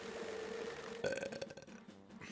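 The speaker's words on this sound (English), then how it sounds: "as you can hear by the belching" A loud belch erupts at about the one-second mark from a Twitch streamer playing The Legend of Zelda: Majora's Mask, a single rumbling burp that trails off into quieter background noise without any speech.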